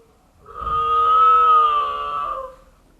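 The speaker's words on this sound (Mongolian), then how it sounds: "тэмээ," A camel, one of the five traditional Mongolian livestock, gives a single long, moaning groan that swells and fades over about two seconds, loud and close.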